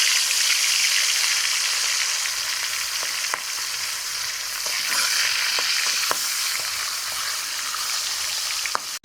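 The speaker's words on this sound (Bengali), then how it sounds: "আমি কড়াইতে সাদা তেল দিয়ে মাছটা ভেজে নিচ্ছি।" Pieces of rohu fish fry in white oil in a wok, giving a loud, steady hiss of sizzling with scattered sharp pops and crackles throughout.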